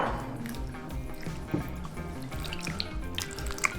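Salt is stirred into a bowl of water with onion rings soaking in it, giving soft wet swishes, drips and small clinks close by, fairly quiet and without talk.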